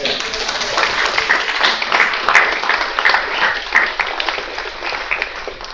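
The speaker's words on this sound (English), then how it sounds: "Graduates, can we give them a round of applause?" Audience at a 2024 GTU commencement ceremony applauds steadily, a dense wash of many hands clapping at moderate loudness throughout, with some voices mixed into the crowd noise.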